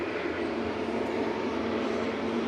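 A Turkish Airlines plane in Star Alliance livery at Manchester Airport, heard as a steady, broad jet engine roar that holds constant and fairly loud for the whole short stretch, with no voices.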